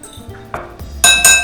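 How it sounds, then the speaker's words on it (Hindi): A metal spoon stirs okra in a bowl with lemon squeezed over it, producing a few sharp clinks and scrapes, the last two loud and ringing, up close and without talk. "कोई भी एक चम्मच ले लें, उससे मिक्स कर लें"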